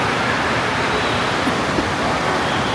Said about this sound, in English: Here's the wave pool.